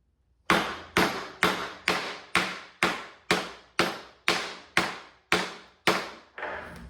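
A new lower bearing on a Porter Cable 333 sander is driven into place with a hammer: twelve sharp, evenly spaced metallic taps, close and loud, ringing briefly after each strike, with no talk.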